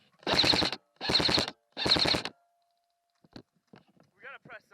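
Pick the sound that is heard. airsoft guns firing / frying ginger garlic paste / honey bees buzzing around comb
airsoft guns firing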